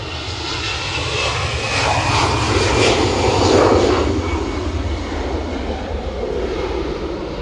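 An EasyJet airliner takes off at Edinburgh Airport on a windy day, its loud jet engine roar swelling and holding steady with a broad, rushing tone.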